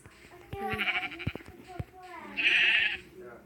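Sheep in a video game bleat twice, each one a loud, nasal call up close, mixed with children talking excitedly and clicky game noises.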